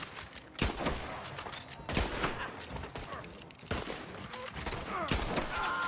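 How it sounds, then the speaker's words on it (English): Several gunshots ring out in Red Dead Redemption, sharp cracks spaced a second or two apart over a busy game background, with faint voices underneath. "I shot him right in his heart."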